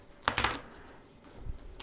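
Embroidery puff foam is torn away from a T-shirt in a few quick, close ripping bursts, one sharp tear followed by softer scratchy pulls.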